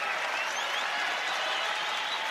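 Steady crowd applause fills a college wrestling arena at the Big 12 Championship finals, a dense, even wash of many hands clapping without pause, fairly distant and moderate in level.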